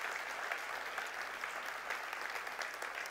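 A church congregation applauding, a dense, even patter of many hands clapping, steady and moderately distant for a few seconds with no voices rising above it.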